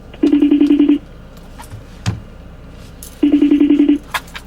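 A phone rings out loud and close while placing a call. A trilling ring is heard, then a pause with a few small clicks, then a second identical trill and a short tone.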